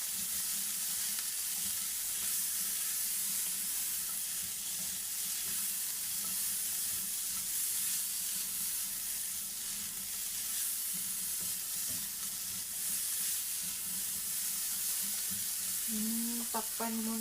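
Ampalaya with alamang sizzles steadily in a hot pan, a continuous close frying hiss with soft scraping as it is stirred, and a brief clatter near the end.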